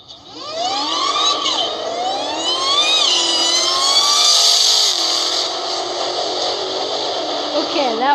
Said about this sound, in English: Now here's it is taking off right now.